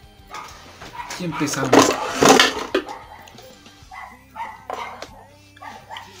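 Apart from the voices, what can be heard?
Chihuahua dog barking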